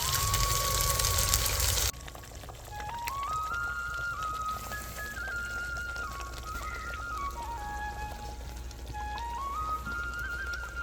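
Water added to a pan of egg curry: a loud, steady pouring hiss for the first two seconds, followed by a melody of background music over low noise.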